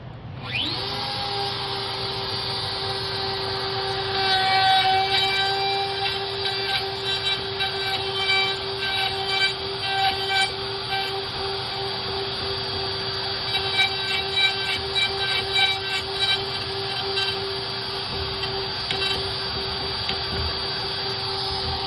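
A power tool run with a hinge mortise jig spins up and holds a steady high whine with a constant tonal hum, loud and close, cutting along continuously for over twenty seconds.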